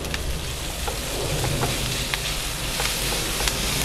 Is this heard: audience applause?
no